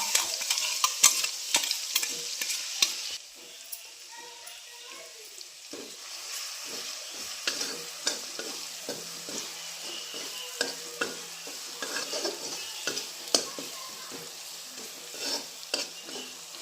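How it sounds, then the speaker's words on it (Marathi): Ground green chili and garlic sautéing in hot oil with cumin and turmeric, a soft continuous sizzle broken by frequent clicks and scrapes of stirring, close and without talk. "आता हे चांगलं परतून द्यायचे"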